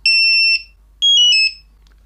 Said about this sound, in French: Et là, vous avez désactivé votre petit buzzer autonome.